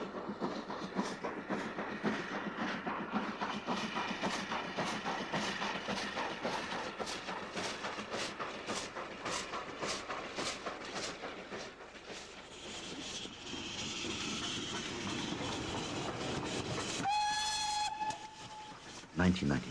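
A 4MT steam tank locomotive chugs steadily with rhythmic exhaust beats and rail clatter, then a shrill whistle sounds near the end.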